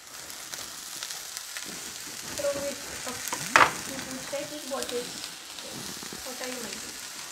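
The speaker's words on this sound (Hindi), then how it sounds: "तो मैं थोड़ा सा पनीर डाल रहा हूँ इसमें" Paneer goes into a hot pan and fries with a soft sizzle and stirring scrapes, a brief louder clatter midway, fairly quiet and close throughout.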